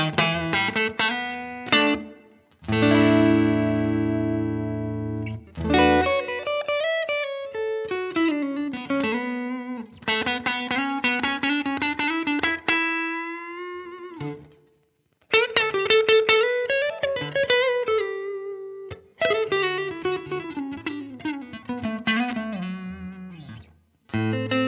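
Fender Stratocaster electric guitar played clean through a Strymon Iridium amp modeler, ringing chords and single-note phrases with sustained tones, short pauses between passages and a little reverb, loud and close with no talking.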